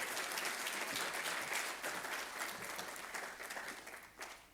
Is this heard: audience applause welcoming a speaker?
yes